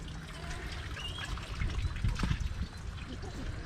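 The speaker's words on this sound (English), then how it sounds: "we've got very much a sufficient water flow. So much that it's overflowing at the moment" Water overflowing from a farm water system during rain, a soft continuous trickle and splash with a brief heavier spill in the middle, low and steady throughout.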